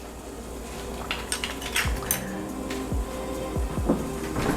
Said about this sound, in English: Then we'll whisk this together and mix it with the solid ingredients